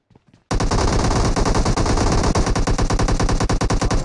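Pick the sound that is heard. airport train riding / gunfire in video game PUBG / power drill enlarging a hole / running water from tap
gunfire in video game PUBG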